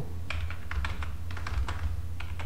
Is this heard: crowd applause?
no